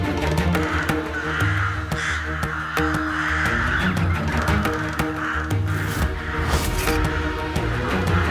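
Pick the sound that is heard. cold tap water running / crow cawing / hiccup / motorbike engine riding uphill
crow cawing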